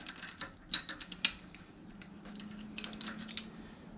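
Wrench turning a nut on the rear shock absorber shaft of a Honda Civic while the shaft is held still, giving a few close metallic ratcheting clicks and clinks followed by quieter scraping, with no talking.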